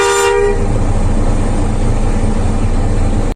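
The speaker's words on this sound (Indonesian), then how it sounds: "Suara klakson truk itu membuat Misno kaget dan panik." A truck horn gives a brief loud blast, followed by a sustained heavy rumbling roar that cuts off abruptly.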